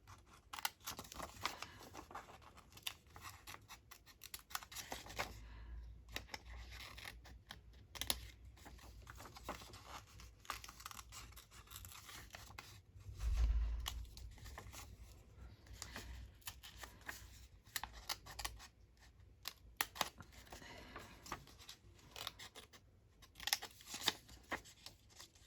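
Scissors snip steadily through paper ephemera at a craft table, with close, crisp cuts, rustling and paper shuffling that continue throughout.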